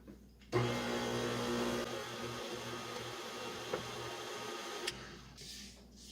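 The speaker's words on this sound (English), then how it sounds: "And then mix." An electric mixer whirs steadily through cake-pop batter with milk and flour, a continuous motor drone that starts abruptly, holds with slight changes in pitch and load for several seconds, then cuts off.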